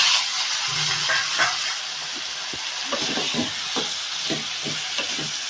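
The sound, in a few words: goat head meat added to sizzling onion tomato masala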